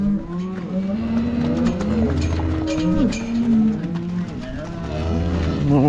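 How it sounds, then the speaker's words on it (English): A herd of cattle on a farm moo loudly and overlapping while hooves thud nearby as the cows run, with people talking in the background. "because all the cows are running now."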